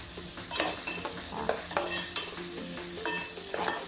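Tinolang bangus ingredients, milkfish with black pepper, stirred in a pot with a steady run of spoon scrapes and clinks over a soft simmering bed, close and moderately loud.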